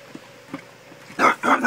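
A fearful, reactive dog barks in short bursts near the end, two or three loud close barks after quieter faint yips and shuffling.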